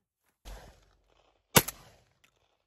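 Shotguns fire at doves on a Louisiana dove hunt: two separate outdoor blasts about a second apart, the second louder and sharper, each with a short tail, and silence around them.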